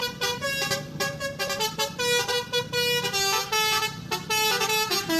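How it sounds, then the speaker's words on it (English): A large modern city bus sounds its horn in a series of loud, repeated tonal honks of varying length, blaring close by with almost no gaps between the blasts. "Modern bus, a large bus that carries many people around the city."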